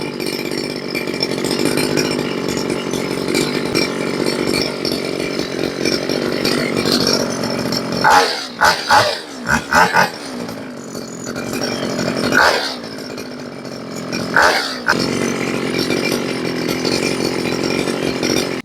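Small two-stroke engine of a newly assembled grass cutter running without its blade fitted, a loud close buzzing drone that dips and revs in several bursts before settling back to a steady idle.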